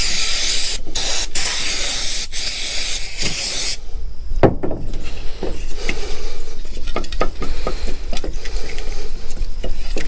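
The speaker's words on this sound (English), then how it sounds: "And then I'm going to take some carb cleaner and clean it out." Carb cleaner sprayed from an aerosol can onto an engine part, a loud hissing burst for several seconds, then clinks and scraping of metal parts being handled, with no talking.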